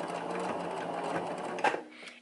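A sewing machine stitches a hair weft onto a wig cap in a steady, rapid mechanical whir. It runs loud and close with a brief louder clunk near the end, and no one speaks over it.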